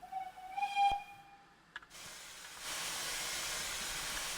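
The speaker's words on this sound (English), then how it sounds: "Let the train go." FR Class A5 steam locomotive setting off, with a brief whistle-like tone at the start, a sharp clank, then a steady loud hiss of escaping steam that swells and holds.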